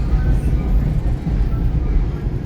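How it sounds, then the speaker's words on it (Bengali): Metro train running from New Jersey to Manhattan, heard from inside a nearly empty carriage as a loud, steady low rumble and rolling drone with faint rattles, no voices. "নিউ জার্সি থেকে নিউ ইয়র্ক পর্যন্ত ট্রেনের যাত্রী আমরা।"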